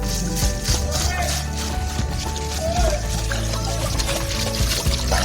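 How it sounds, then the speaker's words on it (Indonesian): Rice water pours steadily into a jerrycan, a continuous trickling and gurgling stream heard up close alongside background voices and faint rattles. "Air beras ini dimasukkan ke dalam jerigen dan akan digunakan untuk menyiram."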